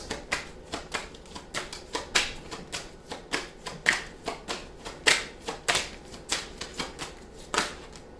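Tarot cards being shuffled and handled give a steady run of crisp, papery snaps and flicks, about two or three per second for several seconds, close by and alone with no voices.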